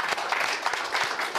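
Brief burst of audience applause for panelists at an economic forum session, a dense patter of clapping filling the room at moderate level.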